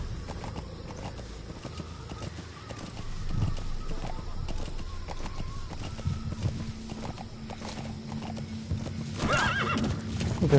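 A white horse in a video game gallops with steady clip-clop hoofbeats and lets out neighs, set against game ambience, with a brief voice exclamation.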